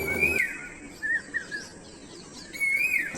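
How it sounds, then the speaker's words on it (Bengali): Birds call at the Bangriposi forest resort beside a river, sounding as several clear whistling chirps in short bursts with quiet gaps between them, fairly close and with no voices. "সারাদিন ফ্রিতেই নাম না জানা চেনা অচেনা লক্ষ লক্ষ পাখির কলতান শুনতে পাবেন"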